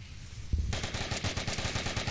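Rapid automatic gunfire in the VR shooter Onward during a competitive match, a sustained burst of close, loud shots starting abruptly after a brief quiet lead-in.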